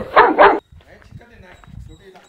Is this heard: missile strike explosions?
no